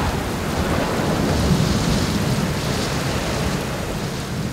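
Heavy rain pours steadily with deep rolling thunder rumbling underneath, a dense, loud, continuous wash of storm noise with no voices.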